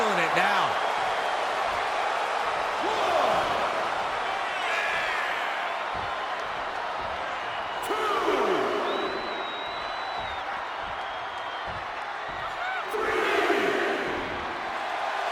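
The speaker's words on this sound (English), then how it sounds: "The sound of this crowd is deafening, and he's asking for more" Wrestling arena crowd in the video game WWE 2K23 roaring steadily throughout, with swelling cheers, shouts and impact slams, while a commentator talks over the noise.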